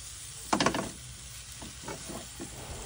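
Onion and tuna sauté in a pan for a creamy tuna pesto. A quick burst of stirring clatter and sizzle comes midway, then quieter scraping stirs follow over a low hiss.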